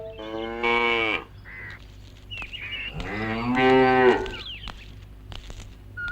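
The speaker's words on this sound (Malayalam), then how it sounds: "പശുവിനെ ഇവരാരും മാറ്റി കെട്ടിയിട്ടില്ലേ?" A cow lets out two long, loud moos close by with a pause between them, while faint crow calls sound in the background of a rural homestead.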